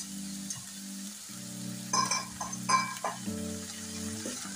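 Spring onion bhaji with tomatoes and Kashmiri red chili is stirred in a pan, with a few scraping strokes and light sizzling under a steady tonal hum.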